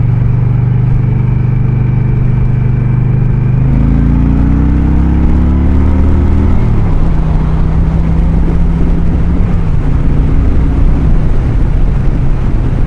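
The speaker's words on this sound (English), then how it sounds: "Man, this truck is not going up this hill very well." A laboring truck engine grinds up a hill, heard close and loud from a passing motorcycle, its low droning harmonics stepping and sliding in pitch as it strains, with wind rush throughout.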